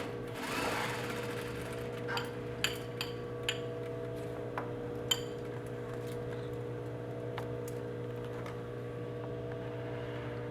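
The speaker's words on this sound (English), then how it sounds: "We're going to sew this like we did our simple welt, no back stitching because it becomes our cut line." A sewing machine stitches a welt line on fabric without backstitching, giving a steady mechanical hum with scattered light clicks and ticks, close and alone.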